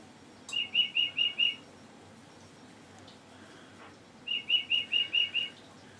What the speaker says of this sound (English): There goes my bird clock.